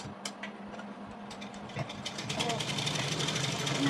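Sewing machine back-stitching to lock a salwar seam, a rapid mechanical run rising after a few scattered taps and clicks, growing steadier and louder toward the end, with no talk.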